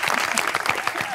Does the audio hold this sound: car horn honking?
no